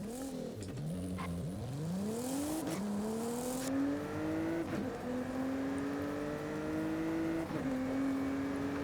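A Nissan GT-R in Forza Horizon 5 video game audio, built as a rear-wheel-drive touge car. The engine revs up through the gears again and again with rising pitch and short drops at each shift. It is steady and continuous, with no talking.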